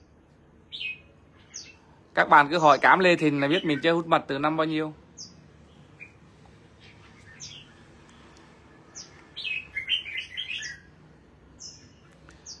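Pet sunbirds kept by a bird hobbyist chirp in the morning, with short thin high calls scattered around a stretch of someone talking, then a brief burst of twittering song near the end.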